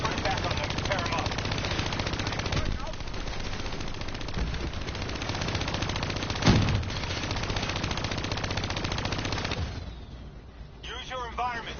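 Hijacked automated turrets firing in the Black Ops 3 campaign, a dense, continuous stream of rapid gunfire close by with one louder burst midway, before the firing thins out near the end.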